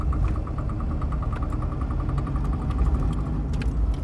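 A Fiat Panda Young from 2000 with a 900ie engine idles with a steady low rumble, and a rapid, regular ticking runs through most of it.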